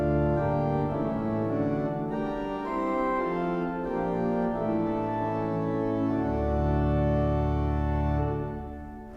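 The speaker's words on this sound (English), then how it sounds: "It's called the Great Manual, and this is where we find many of the foundation stops that you will hear on" Royal Albert Hall pipe organ played on the Great Manual with its foundation stops, a loud, full sustained chordal texture with rich harmonics, shifting chords held throughout before easing off at the end.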